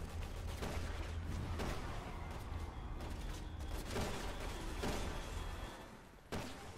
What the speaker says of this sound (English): I'm gonna throw a fucking grenade here.